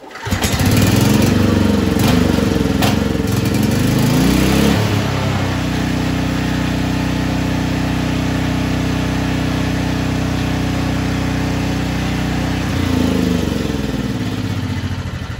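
A Briggs & Stratton 6000 watt generator converted to run on propane drones loudly and steadily in the foreground, with a rougher, surging stretch at the start and again near the end.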